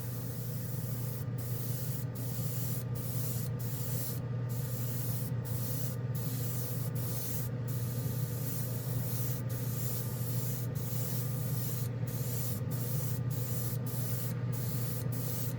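OdenKan Final Chrome paint is misted through an airbrush in a steady, close, continuous hiss, with regular short breaks as the trigger is released.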